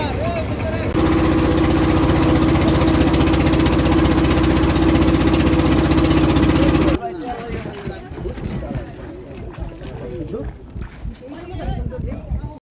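The engine of a trawler boat on the Dawki river runs loud and steady for several seconds, then cuts to a quieter stretch of water and ambient noise with people talking nearby.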